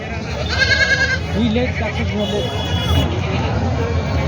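Goats bleat at a large goat and sheep market in Vasmat, Maharashtra: a few nearby wavering bleats rise over constant crowd chatter and people talking close by.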